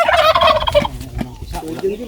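Turkeys gobble loudly and close by, a burst of rapid warbling calls followed by scattered shorter gobbles.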